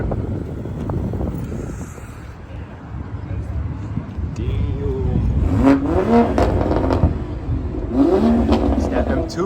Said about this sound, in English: It's that M2.